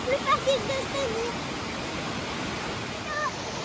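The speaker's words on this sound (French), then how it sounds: "On est arrivé à une première cascade." Waterfall pouring steadily in the rain on a forest trail, a constant broadband rush close by, with a few faint bird chirps early on.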